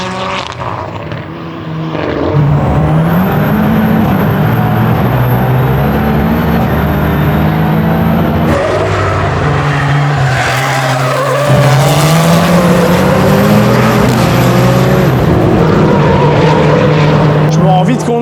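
A rallycross race car accelerates hard on track, its loud, close engine note rising and climbing through gears with rough, raspy surges and brief tire skids, heard steadily throughout.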